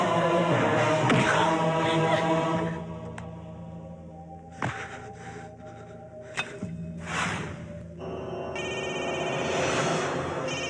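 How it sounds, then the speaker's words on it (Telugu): An old-style telephone bell rings in repeated bursts and goes unanswered, clear and fairly close, with quieter gaps and a few thumps between rings. "ఓకేనవా, ఫోన్ ఎత్తడేట్రా"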